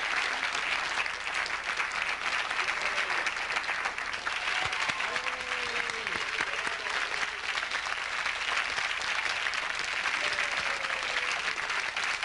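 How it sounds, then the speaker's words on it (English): Steady, dense studio-audience applause on the game show Majority Rules, continuous clapping throughout the span at a constant level, with faint voices and brief cheers surfacing midway. "How about a round of applause for them?"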